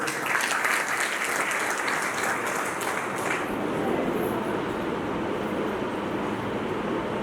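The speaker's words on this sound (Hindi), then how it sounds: "इनके लिए भैया तालियां बजाते हैं" Gathered listeners at a religious discourse in an ashram clapping; a loud, continuous clapping that blends into a rumbling, noisy backdrop, thinning after a few seconds while the roar carries on.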